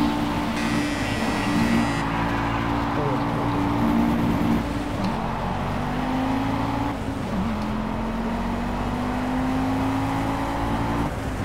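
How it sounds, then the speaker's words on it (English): A 250cc go-kart engine races at a track, a loud, constant buzzing drone that holds a high steady pitch with slight rises and dips as throttle shifts, close and unbroken for the whole stretch, with no clear speech over it. "Sorry if you can hear the engine,"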